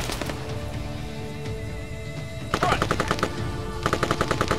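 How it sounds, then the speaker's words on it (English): Sustained machine gun fire in the military shooter Arma 3, rapid rhythmic bursts growing louder and sharper midway and again near the end, with a soldier shouting a brief callout over the combat noise. "Engage that machine gunner!"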